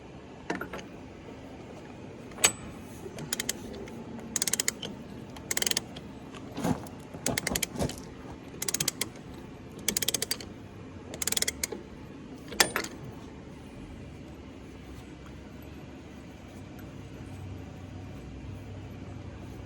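Bolts on a Gleaner R72 combine final drive being torqued down, heard as a series of short, sharp metallic clicks and ratchet bursts spaced irregularly through the first thirteen seconds, then quieter shop background.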